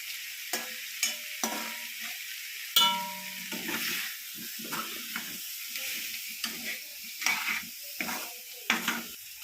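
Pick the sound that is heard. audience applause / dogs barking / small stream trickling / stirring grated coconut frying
stirring grated coconut frying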